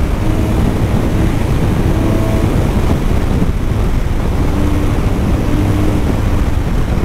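A BMW 1200 motorcycle with an aftermarket exhaust, its engine giving a loud, steady, rumbling drone that holds constant throughout without pauses, as if heard while riding.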